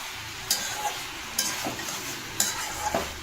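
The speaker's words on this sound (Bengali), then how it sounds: "এটা আস্তে আস্তে কষুক" Onion- and garlic-free vegetable curry fries slowly in a pan with a steady close sizzle, broken by several sharp spoon scrapes and taps at roughly one-second intervals.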